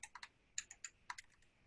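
Quick bursts of key clicks from a new computer keyboard, a dozen or so crisp taps in uneven clusters, close but quiet, with no speech over them.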